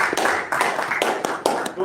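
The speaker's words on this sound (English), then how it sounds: "Please give her a huge round of applause" Audience applause at a Toastmasters meeting, a room of people clapping steadily with sharp bursts recurring through the short span, fairly close and lively.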